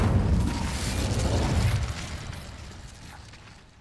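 A fire spell bursts with a loud whooshing blast in the Hogwarts Legacy wizarding game, a roaring flare that rumbles low and then fades over a few seconds, with no talking.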